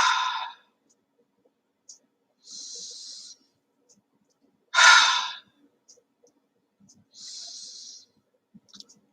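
Slow, deep breathing close to the microphone: loud breaths in and out alternating with long quiet gaps, two forceful exhales and two softer, higher-pitched inhales across a calm stretch.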